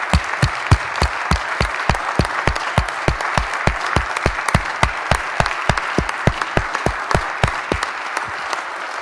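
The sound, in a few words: applause for the LTSB in state assembly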